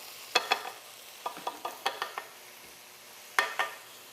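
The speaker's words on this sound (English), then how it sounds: "We're just browning this up" Stirring ground meat as it browns in a skillet for cheeseburger macaroni, with a handful of light scraping and clacking utensil strokes in short bursts over a faint, steady sizzle, close and fairly quiet.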